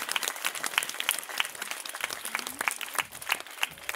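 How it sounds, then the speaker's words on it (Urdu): Audience claps for a schoolgirl called up as second-prize winner at a speech competition award ceremony, a lively scatter of individual hand claps at moderate volume, with a faint tone or voice briefly underneath. "زوردار تالیوں کے ساتھ بلائیے."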